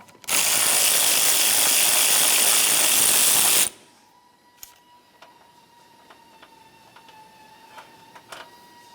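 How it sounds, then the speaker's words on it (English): A ratchet wrench loosening a 10mm mounting nut on a 2001-2005 Ford Explorer Sport Trac: a loud, fast, continuous ratcheting burst for a few seconds, then stopping, followed by faint scattered clicks and taps. "we're going to remove our 10mm headed mounting nut"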